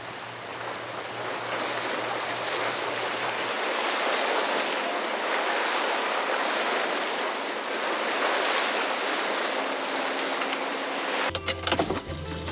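A sailboat cuts through open water with a steady wash of waves and wind rushing past, loud and continuous, with a low engine-like hum early on and a brief clatter near the end.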